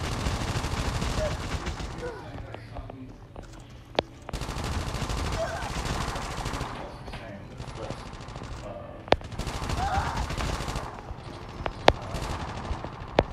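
Call of Duty Mobile gunfire rattles in dense automatic bursts through most of the stretch, broken by a few sharp single shots and short pauses, with faint voices underneath.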